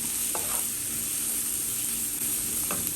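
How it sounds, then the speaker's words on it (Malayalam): Vegetables sautéing in a pan for beetroot egg rice, a steady close sizzle and hiss with a few faint stirring scrapes, no voices. "ബാക്കി എല്ലാ സാധനങ്ങളും കൂടെ ഒന്നിച്ചിട്ട് കൊടുക്കാം നമുക്കിതൊന്ന് വഴറ്റിയെടുക്കാം"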